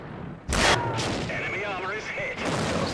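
A tank cannon fires once in a video game battle against Matilda tanks: a sudden loud boom with a rumbling tail, followed by someone talking over the game sounds.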